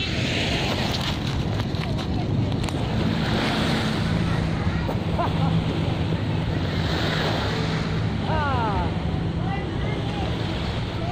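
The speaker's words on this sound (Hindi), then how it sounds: "समुद्र का बीच, लहरें," Sea waves at Pattaya beach wash in as a steady, loud surf roar, mixed with wind buffeting the microphone and a few faint bird-like chirps far off.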